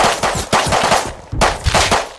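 Rapid automatic gunfire from a gun in the survival game Rust, loud and close, firing in bursts of several quick shots separated by brief gaps.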